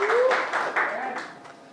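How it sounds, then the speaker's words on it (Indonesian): A classroom of students claps for a classmate after an answer in a networking lesson, a short scatter of distinct claps mixed with a teacher's voice talking over them, fading toward the end. "tepuk tangan untuk temannya"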